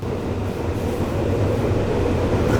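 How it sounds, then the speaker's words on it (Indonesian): Train passing close by, a loud steady rumble of wheels and carriages on the rails that swells slightly toward the end, with no talking over it. "Nih kita lihat kereta ya."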